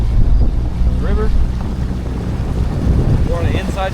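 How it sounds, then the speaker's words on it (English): Strong wind gusts buffet the microphone on a bend of the Arkansas River, a steady loud roar with faint bird-like chirps near the start and end, and no talk. "we're not getting the full 30-mile-an-hour wind gusts, but we're still getting it"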